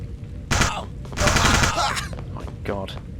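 Pistol fire in the FPS Creator shooter game comes as loud, harsh bursts of gunshots in quick succession, mixed with game noise and a player talking.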